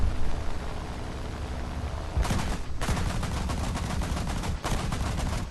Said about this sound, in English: And then it has cannons.